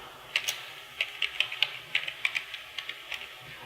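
Computer keyboard keys clack in quick, uneven bursts of about a dozen crisp taps, close and fairly soft, with no voice over them while a tax ID number is entered.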